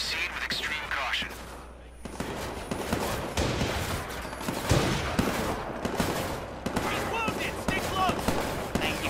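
Gunfire in Watch Dogs 2 during a shootout with police, bursts of shots and sharp cracks scattered over a dense, busy mix, with voices in the game talking in places.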